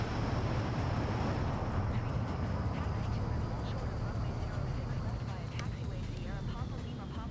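Steady, dense engine roar of a Concorde airliner in a flight simulator, a continuous broadband drone that holds level throughout with faint clicking on top.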